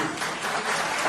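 Brief burst of congregational clapping during a Christian worship service in a church, a steady, even wash of many hands at moderate volume.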